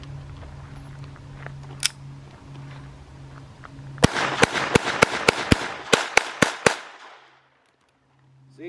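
A Ruger SR22 .22 pistol fires at the range: about ten sharp, loud reports in a steady rapid rhythm, with faint background noise before and near silence afterward.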